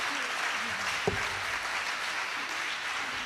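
A crowd at a live alumni gathering claps steadily in a loud round of applause for the principal and director, a dense, even patter that holds for the whole stretch with one brief sharper knock partway through.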